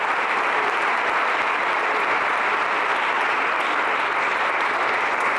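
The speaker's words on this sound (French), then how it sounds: "Je pense qu'on peut les applaudir" Audience at a French business event applauding, a dense, steady wash of clapping from many hands that holds evenly throughout, loud and close.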